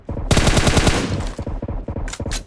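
Automatic gunfire in the mobile battle royale game PUBG Mobile: a long rapid burst of loud, close shots, then shorter choppy volleys with brief gaps between them.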